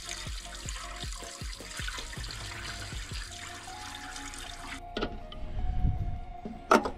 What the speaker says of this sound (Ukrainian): Тосола немає, так що лємо воду поки що.